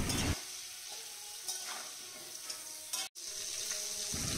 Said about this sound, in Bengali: দিয়ে তারপরে আলুগুলোকে ভেজে নেব